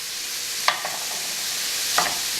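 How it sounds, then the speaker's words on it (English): Cilantro and chopped tomato sizzle in a Saladmaster 12-inch chef pan, a steady hiss of frying with a couple of brief scraping stirs standing out near at hand. "Give it a quick little stir fry."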